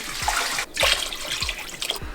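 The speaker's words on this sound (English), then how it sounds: "We pour around 10 cups of water." About ten cups of water pour into a cooking pot for a broth, a steady close splashing stream with a few brief breaks and gurgles, no talking.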